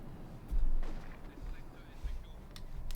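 Booming Panther tank cannon shots in the WWII strategy game Company of Heroes 2, two heavy blasts about a second and a half apart, with a live commentator talking over the battle noise.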